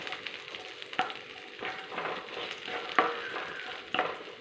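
Vegetables for a brinjal curry sauté in a hot pan, a steady close sizzle and fry with periodic scraping stirs of a spoon against the pan.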